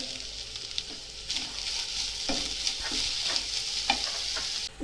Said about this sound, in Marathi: दोन मिनटं असं असं मस्त परतून घेतलं